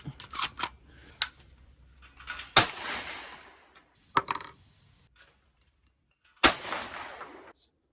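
Remington 12-gauge shotgun firing light 1-1/4 dram game loads outdoors, heard as a few sharp booming reports spaced seconds apart with mechanical clicks between, and no voices.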